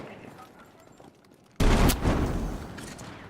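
Grenade blast and burst of gunfire in a multiplayer shooter game, a sudden loud boom followed by sustained rattling shots and rumble.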